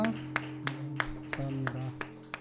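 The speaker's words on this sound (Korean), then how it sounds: "하나님 앞에 영광의 박수 올려드립시다" A congregation at a Sunday morning church service claps in a quick, regular rhythm over sustained tones and murmuring voices, moderately close.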